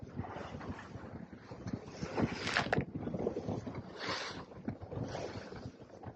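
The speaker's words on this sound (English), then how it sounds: "So we're going straight into the wind." Steady wind roars across the microphone on a boat heading straight into the wind, with gusts swelling and fading and a faint wash of water underneath; no one speaks.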